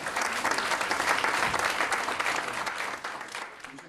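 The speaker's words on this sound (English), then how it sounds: "let's give him a big round of applause." Dense, sustained applause fills the room as an audience claps for a speaker at a Puerto Rico Day panel in Tallahassee, loud and even before tapering slightly at the end.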